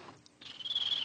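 A voice imitates birds with a high, thin chirping whistle that rises into a sustained trill, close and fairly loud, after a brief quieter opening.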